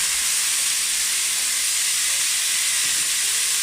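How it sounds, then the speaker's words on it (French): Sausages frying in oil in a pot for rougail saucisse give a loud, steady, broad hiss of sizzling fat that stays constant throughout, with no talk over it. "Il faut bien faire frire les saucisses."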